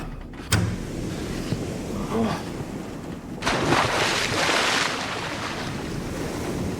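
Ocean waves crash and wash in a nighttime sea scene from a 2012 gothic audio drama, a continuous rushing surge with a sharp splash early and a louder swell building midway, heard alone with no voices.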